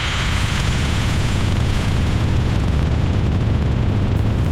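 AI-generated rocket launch sound effect, a loud continuous rumbling roar with broad hissing noise that holds steady throughout, with no talk.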